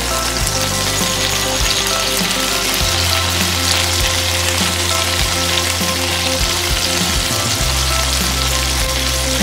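Large prawns dropped into moderately hot oil fry with a loud, steady crackling sizzle that continues throughout, with no talking.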